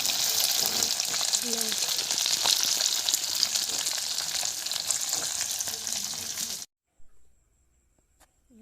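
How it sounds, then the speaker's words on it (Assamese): Fish frying in a kerahi pan gives a steady, loud sizzle that runs unbroken for several seconds before cutting to near silence, with a few faint clinks afterward. "এইফালে মাছ ভাজি আছে"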